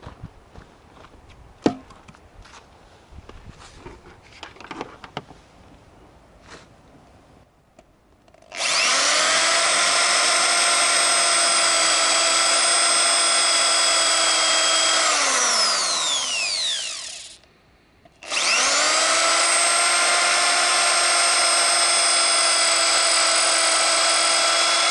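Small electric drill fitted with a metal bit bores into a rotten stick, a loud steady whine lasting several seconds that winds down briefly and then starts up again, after some faint handling noises.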